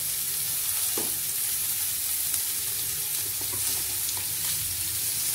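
Potatoes hiss and sizzle steadily in hot oil in a pan after whole-spice tempering, with occasional stirring clinks over the continuous frying noise.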